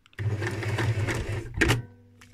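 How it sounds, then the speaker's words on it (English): A domestic sewing machine reverse-stitches through leather with a steady close mechanical whir for over a second, then a brief louder clunk and a fading hum as it stops; no talking. "Now I'm gonna come back, meaning using my reverse stitch."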